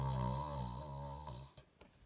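A person imitates a bear snoring with a long, low, rumbling drawn-out snore that fades into a few short breathy sounds, close and fairly loud.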